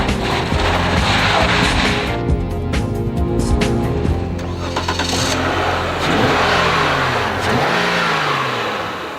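Suzuki Verona car with a 2.5-litre engine driving on ice, its engine droning and revving with repeated rising and falling pitch, close and loud, mixed with scraping and clattering noise.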